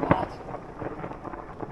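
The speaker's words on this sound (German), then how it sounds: "Blitz direkt hier eingeschlagen." Thunder from a lightning strike very close by during rain on a hike along the Heidschnuckenweg: a sharp loud crack at the start, then a lower rumbling roll that fades over the next second.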